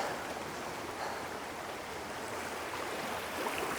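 A shallow, low-running stream on off-grid land flows in a steady, even rushing wash throughout, close by and fairly quiet, with no voices.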